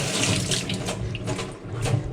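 Cold tap water running steadily into a sink while hands are washed after handling onion, a loud close splashing rush with small shifts as the hands move under the stream.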